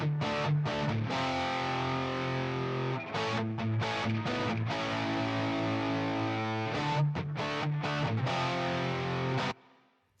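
Two distorted rock electric guitars, one panned left and one panned right, play together in a dense, loud, continuous wall of sound with rhythmic chord stabs before cutting off abruptly at the end.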